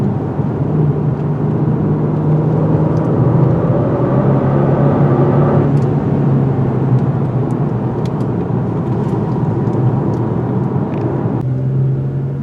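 A 2021 Genesis G70 drives in sport mode with a steady, loud engine and road rumble. There is a low droning hum throughout, and the tone shifts slightly partway through as if changing gear or load. No one speaks.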